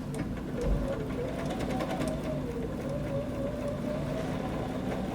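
A sewing machine hums evenly and close by as it stitches a quarter-inch seam on a quilt-as-you-go table runner, a steady motor drone with no voices.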